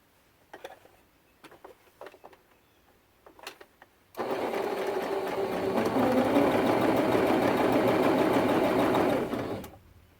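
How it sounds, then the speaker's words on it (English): Quilt binding strips are fed through a sewing machine, which after a few soft handling taps runs in one continuous fast whirring burst of about five seconds, close and steady, before stopping. "So you can see how quickly our binding gets sewn together this way."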